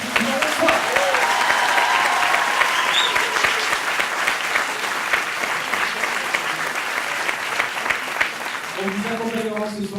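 An audience at a university research showcase event in Toulon claps and cheers in a sustained, dense wave, with shouts and voices mixed in and a host beginning to speak near the end.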